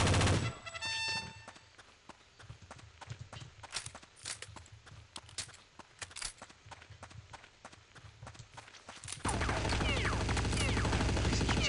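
Bursts of gunfire from the video game Counter-Strike: Condition Zero crack sporadically at middling distance, scattered single shots and short volleys, before a loud, dense wash of noise takes over near the end.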